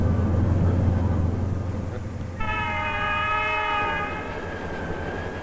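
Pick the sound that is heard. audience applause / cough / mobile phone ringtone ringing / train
train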